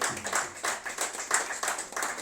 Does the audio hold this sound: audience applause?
yes